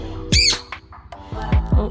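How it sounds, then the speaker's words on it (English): Pet birds squawking nearby during a free-flight session, a loud harsh call followed by a few shorter squawks with faint chirps between them. "he hears the other birds in the back right now"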